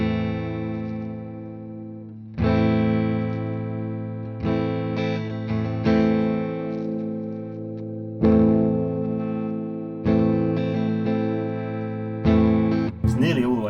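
A Squier Telecaster electric guitar plays through an amp with the tone knob rolled down, giving a warm, muffled sustained chord, then several more strummed chords that ring out and decay, with a brief speaking voice near the end.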